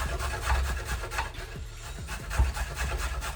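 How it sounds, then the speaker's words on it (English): A small carrot is grated by hand on a kitchen grater, giving a steady run of close, rough rasping strokes repeating in a quick rhythm throughout, with no talking. "And then carrot. Just grate it up."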